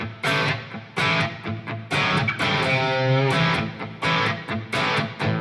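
An electric guitar with a distorted tone just past breakup plays loud, sustained chords and single notes, with a ringing held note in the middle, the crunch steady throughout.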